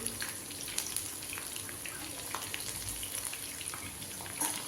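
Ivy gourd (kovakkai) chilli pieces frying in hot oil, a steady dense sizzle and crackle running throughout at close range with no talk.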